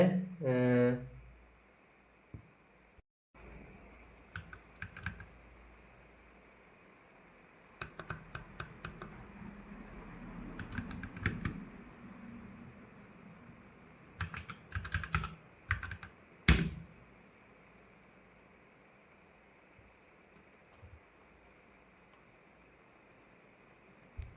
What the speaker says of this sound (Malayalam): GCC hello.c എന്ന് നമ്മൾ ടൈപ്പ് ചെയ്യുക